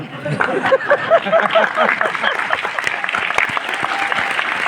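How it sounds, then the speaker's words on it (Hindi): An audience at a success celebration in Delhi claps steadily and loudly, a close, sustained burst of applause with faint laughter and chatter beneath. "ठोको ताली अपने लिए, बढ़िया से मुस्कुरा के बजाना"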